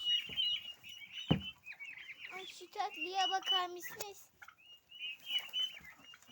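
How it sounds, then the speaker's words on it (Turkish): Turkey chicks about one to two months old peep and cheep in high, thin calls close by, while someone speaks over them. "Hindi civcivleri."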